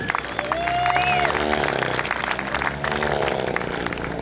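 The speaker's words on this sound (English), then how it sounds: "big round of applause for that" Crowd applause at an RC airshow following a radio-controlled aircraft demo, steady clapping with tonal background sound and voices mixed in.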